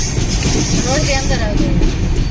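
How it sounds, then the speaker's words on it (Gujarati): The Chennai Express train runs along near Lonavala, a continuous rumbling roll with faint clatter heard from on board under a person talking. "અમારી ટ્રેન રોડ ઉપર ચાલી રહી છે."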